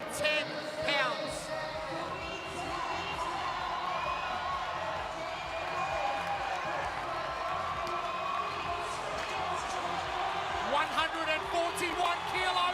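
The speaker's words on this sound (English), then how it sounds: "The crowd is going bananas here." Arena crowd at a CrossFit semifinal weightlifting event roaring and cheering steadily throughout, with whoops rising above the dense, continuous noise and a commentator's voice running over it.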